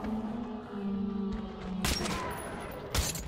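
Gunfire in the first-person shooter Metro: Last Light, a loud burst of shots followed by another sharp blast against a low humming game backdrop, no talk.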